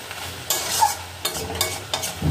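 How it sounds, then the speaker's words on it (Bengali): Prawn chorchori, a mixed vegetable curry, sizzles in a pan while a spoon stirs it in several scraping bursts, close and fairly loud, with no talking. "মিশালি তরকারি, মানে চিংড়ি দিয়েই করছে একটা চচ্চড়ি।"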